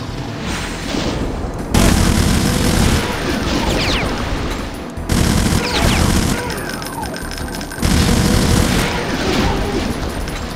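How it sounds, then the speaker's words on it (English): A minigun fires in long, roaring sustained bursts in the Brutal Doom game, with explosions and crashes mixed in, loud and continuous with brief pauses between volleys. "I'm getting my freaking minigun out."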